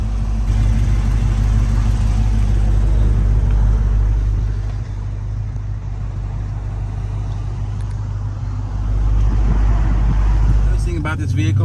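Dodge Hellcat with a manual gearbox driving along, its engine giving a steady loud low rumble throughout with constant road noise and a brief change near the end.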